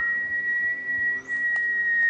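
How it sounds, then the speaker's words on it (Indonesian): A very loud, steady, piercing whistle holds one unbroken high tone, with a brief dip partway through and faint background noise beneath. "Kalian denger gak suara siulan itu?"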